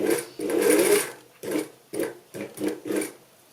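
A domestic sewing machine stitches a line of gathers in fabric, running in one long burst followed by several short, evenly spaced bursts as the stitching stops and restarts, close and clear with no talking.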